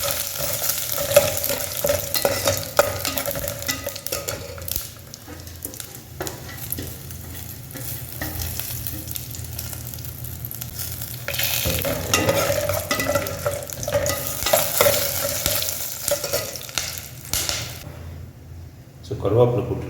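Whole cinnamon, cloves and cardamom fry in ghee for village-style chicken pulao, a steady close sizzle with stirring scrapes that swells louder in the second half, with brief speech over it.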